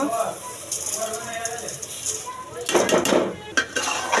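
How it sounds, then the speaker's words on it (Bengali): Raw rice being fried in a pot for cauliflower biryani, with a metal spoon scraping and clattering against the pot and a soft sizzle underneath, in bursts of stirring, while a voice speaks at times. "চালগুলা ভেজে নিব এখন"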